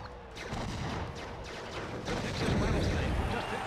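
Rockets blasting in the wrestling brawler WWE Crush Hour, a dense roar of fire and crashing explosions that swells toward the end, with a voice talking faintly underneath.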